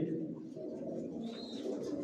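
Racing pigeons coo softly in a loft in a low, murmuring drone, with faint chirps and a brief high whistle-like call over steady ambient noise.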